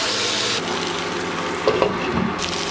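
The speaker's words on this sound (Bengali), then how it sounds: "এখন সবজির সাথে মশলাটাকে মিক্স করে কষিয়ে নেব।" Okra and ground spices frying in a pan while being stirred, a steady broad sizzle with scraping spoon strokes near the end, close and fairly loud, no talking.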